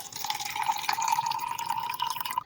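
Water poured into casting powder, heard as a steady trickling splash with a thin ringing tone that runs unbroken for a few seconds, close and fairly loud, with no voices.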